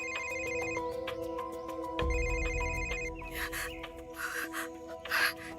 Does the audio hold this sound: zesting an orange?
no